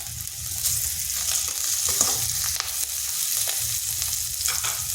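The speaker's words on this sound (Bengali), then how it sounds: "পেঁয়াজটা হালকা ভেজে নিয়েছি। এরপর দিচ্ছি 3টা কাঁচা লঙ্কা" Sliced onion and three green chillies frying in a pan for an egg snack, a steady close sizzle with light stirring scrapes running throughout, no voices.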